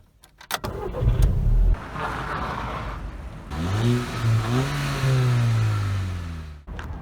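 A 2007 Volkswagen Mk5 Golf GTI with a 2-litre turbocharged engine starts up close by, then revs repeatedly with rising and falling engine pitch before settling, heard alone without talk.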